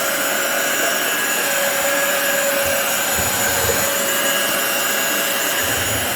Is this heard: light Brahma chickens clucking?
no